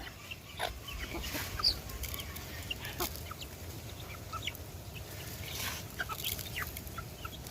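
A mother hen clucks softly over quiet outdoor ambience, with scattered short calls and chirps, fairly faint and intermittent throughout.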